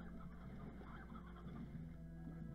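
Chickens cluck in the Slime Rancher game, soft, steady pecking clucks and murmurs from a flock roaming a farm, faint and continuous throughout.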